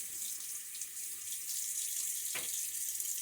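Water runs steadily from a sink tap during a wet shave rinse of a razor, a constant hissing stream with a brief splash as something passes under it.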